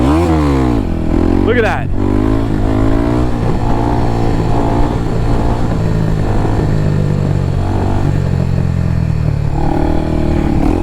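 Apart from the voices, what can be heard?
300cc motorcycle engine revving during wheelie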